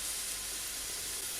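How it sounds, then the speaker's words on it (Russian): Flour frying in a pan while making mushroom julienne: a steady broadband hiss and sizzle, fairly faint and continuous, with no voices. "обжариваем немножко муку на сковородке"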